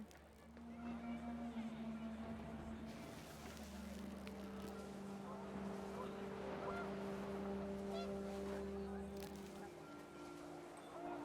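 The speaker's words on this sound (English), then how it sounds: "The wind picked up, and panicked geese appeared and quickly went." Geese honking in a panicked flurry against gusting wind in the video game What Remains of Edith Finch, with a steady low drone beneath the calls.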